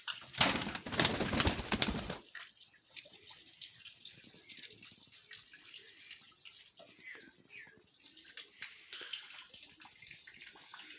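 Chocolate marble Baku pigeons in a loft, with a short burst of loud rushing noise at the start, then soft cooing and faint bird sounds at low level, with a voice speaking now and then.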